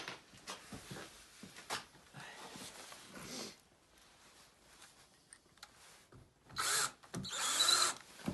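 A power drill drives screws into the back of a shippable rack-in-a-box, with short whirring bursts separated by pauses, the loudest bursts near the end, close by and with no talking.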